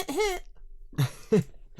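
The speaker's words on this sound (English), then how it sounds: "now he's coughing again" A few short, harsh coughs come in quick bursts, close to the mic, with brief quiet gaps between them.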